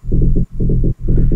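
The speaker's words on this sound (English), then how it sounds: "such a fat bass" Fat synthesizer bass built from sine and saw oscillators, with a sine layer one octave down and a punchy, attacky envelope, playing three loud, evenly spaced sustained notes with short gaps between them.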